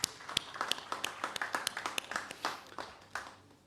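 A small group claps at a GST conference, separate sharp claps in a loose, uneven rhythm, fairly faint and thinning out toward the end.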